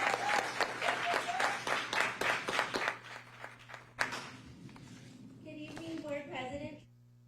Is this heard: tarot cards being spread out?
no